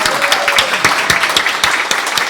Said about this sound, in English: If we could give them one last round of applause.